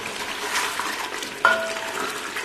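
Mutton sizzles in a pan, a soft, continuous frying hiss with stirring scrapes running throughout. A brief sharp metallic clink of utensil on pan comes midway.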